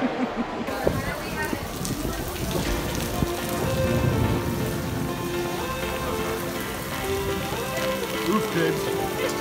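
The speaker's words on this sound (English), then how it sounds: "It's just a little rain. Just a little rain, dude." Steady rain patters on a surface nearby, with scattered drips and faint background voices and sounds mixed underneath.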